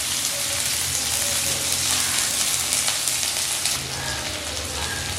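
Sliced medium onion sizzling in hot oil in a pan, a steady, dense hiss with faint crackle running the whole time, close and fairly loud, with a slight dip near the end.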